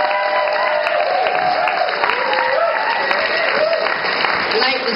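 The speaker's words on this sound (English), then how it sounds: "to each of them, a big round of applause" An audience at the 2010 Nimbin poetry world cup event gives a big round of applause for the performers. Continuous clapping runs throughout, with voices and cheers mixed in over it.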